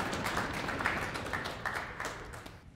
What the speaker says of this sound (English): I think you should applaud yourselves first